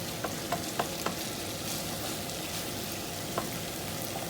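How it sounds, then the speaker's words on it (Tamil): Chilli paneer sizzling and frying in a pan as it is stirred, a steady close hiss with a few light scrapes and taps of the spoon against the pan. "ஒரு கிளறி விட்டுட்டு அடுப்பில் வந்து பாத்திரத்தை இறக்குவோம்."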